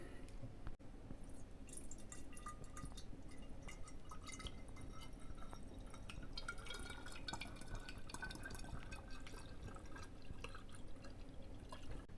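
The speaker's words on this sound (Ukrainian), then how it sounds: "Тепер треба розмішати." Warmed milk, condensed milk and vodka are stirred together for a homemade liqueur, giving a soft, steady liquid swishing at low level for about twelve seconds.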